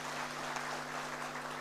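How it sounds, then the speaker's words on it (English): Faint, steady applause from an audience at a police consultative conference closing ceremony in Ngong, a dense wash of clapping with a low electrical hum running underneath. "I think you clap for him so that he can continue"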